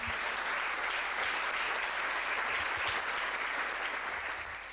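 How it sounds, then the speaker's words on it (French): Audience applause at a youth-focused summit event, sustained dense clapping from a large crowd, steady and loud before tapering slightly at the end. "Dus we kunnen hun toch nog één laatste keer applaudisseren."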